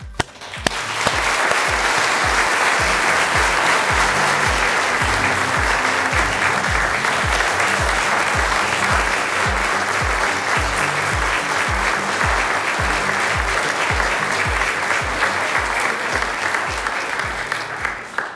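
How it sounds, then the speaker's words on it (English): Sustained, dense applause for the graduating nursing and midwifery class of 2020 at an RCSI conferring ceremony, starting abruptly and holding steady and loud for nearly twenty seconds, with rhythmic clapping running through it. "I now invite you from all around the world to join me in offering a round of applause to the class of 2020"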